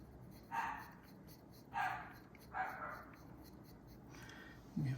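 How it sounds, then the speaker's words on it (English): A dog barks faintly in the distance, four short separated barks over quiet room noise. "We have a barking dog."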